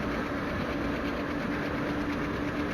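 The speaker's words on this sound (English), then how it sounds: "I can hear the diesel of the other train." A diesel train in the Train Simulator Classic game rumbles past in a steady, continuous drone with a faint engine hum, close and unbroken, with no talk over it.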